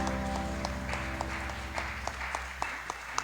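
A church congregation clapping, heard as a soft, steady patter of many hands under sustained organ-like music, fairly distant and continuous.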